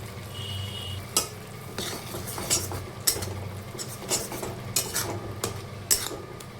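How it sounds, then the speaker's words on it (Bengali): A spice paste with turmeric and chili powder sautés in a pan for an egg dish, with a soft sizzle under repeated scraping strokes of a metal spoon at an irregular rhythm. "এই পেস্টটাকেও খুব ভালো মতন কষিয়ে নেব।"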